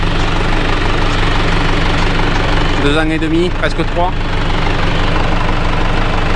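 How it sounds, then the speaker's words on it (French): A tractor engine idles after being restarted, a loud, steady, low rumble with a knocking throb that carries on throughout while someone talks over it. "le tracteur il redémarre, c'est plutôt une bonne chose"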